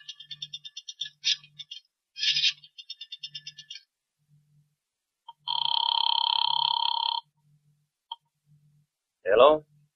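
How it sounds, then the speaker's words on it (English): Old telephone in a radio drama heard just after a nickel is dropped into a drugstore payphone and dialed: quick clicks, then a long electric ring burst with a pause after it, close and clear, with a short voice at the end. "I drove as far as the nearest drugstore, dropped a nickel in the slot, and dialed."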